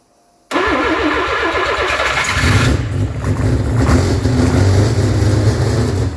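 A Mazda Capella rotary engine cranks briefly, then catches and runs. It comes in loud and abruptly from near silence, then settles into a rough, buzzy, continuous idle heard up close.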